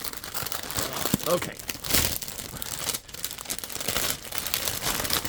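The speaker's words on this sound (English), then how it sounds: "I should have taken this out of the plastic bag. Crinkle, crinkle, crinkle." Plastic bag crinkling and rustling at close range as a handmade card is taken out, a steady crackly texture with a voice speaking briefly over it.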